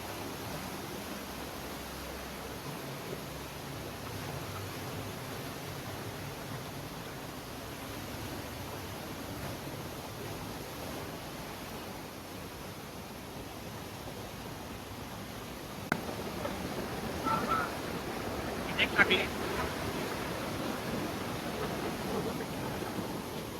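A river swollen by the season's first rain rushes with pressure in a steady, fairly faint broadband roar, with a few brief splashes and knocks near the end.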